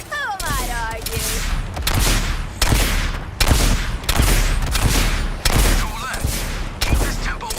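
Rapid gunfire bursts and explosive booms fill combat in the Suicide Squad: Kill the Justice League video game, loud and dense, with character voices talking over the shooting.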